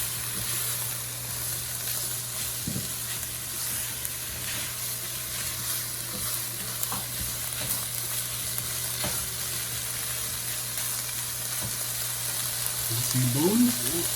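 Ackee and saltfish patty filling sizzles steadily in a frying pan while it is stirred, a continuous close fry hiss with occasional scraping clinks, growing busier near the end.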